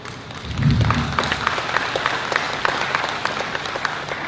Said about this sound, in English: implore you all to give yourselves a round of applause